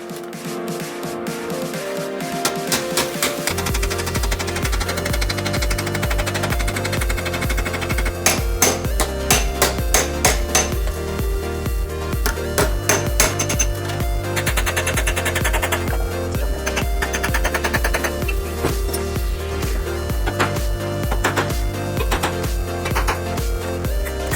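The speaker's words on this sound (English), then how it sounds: "I'm just going to use our main weapon of destruction, which is a panel hammer." Rapid, steady metallic hammering from a panel hammer straightening sheet-metal edges of a handmade repair panel rings out continuously over a loud machine-like hum, blows falling in quick repeated bursts.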